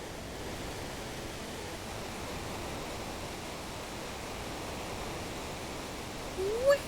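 A steady, broadband rush of a waterfall in the Final Fantasy VI video game, a constant moderate roar with no breaks, ending with a brief rising tone.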